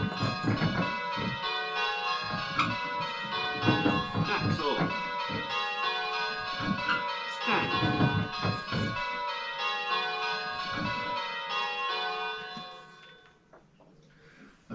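A church bell sounded on a bell-ringing simulator, with many ringing tones struck in a quick, uneven run, each strike bright and overlapping, before the sound dies away near the end.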